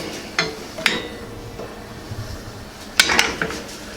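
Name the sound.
spaghetti squash stirred in a pan with bacon drippings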